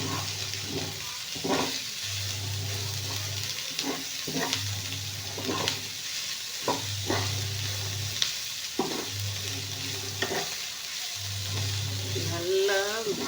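Food frying in plenty of ghee, a steady crackling sizzle that runs throughout, with sharper pops at intervals over a repeating low droning hum.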